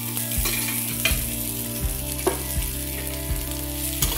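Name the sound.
green chillies and garlic frying in oil in a pan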